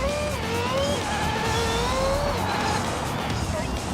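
F1 car skidding and spinning out in a driving video game, a continuous engine drone with rising and falling tire squeal over four seconds, loud and close, with a voice heard briefly.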